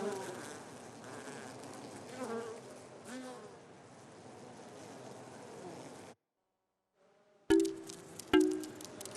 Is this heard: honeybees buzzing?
yes